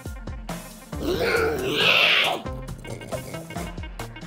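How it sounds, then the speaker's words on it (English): A Minecraft: Story Mode pig gives a rough, growling dragon-like roar that swells and fades over a second or two, framed by rhythmic low thumps and electronic game sounds. "Give me a dragon roar, Reuben."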